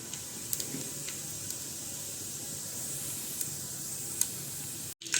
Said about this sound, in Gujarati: હવે આપણે એમાં રાઈ નાખશું, જીરું નાખશું,